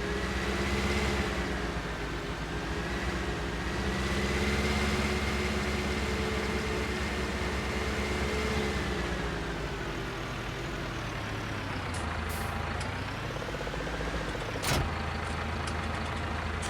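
Tractor engine in Farming Simulator 19 running at a steady low rumble throughout, with slight pitch shifts as it works, a brief sharp click near the end, and no talking.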